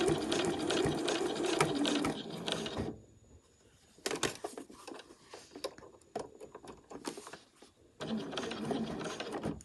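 Domestic sewing machine stitching fabric around corners, running in loud, steady bursts with a pause near three seconds and a quieter, uneven stretch before resuming strongly near the end.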